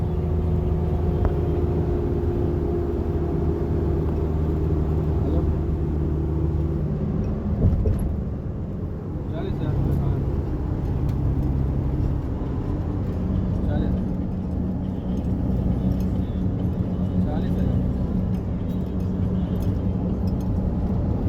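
Steady road rumble from a vehicle driving along a main road and flyover in Kuwait, a continuous low engine and tyre drone throughout, with someone talking over it most of the time.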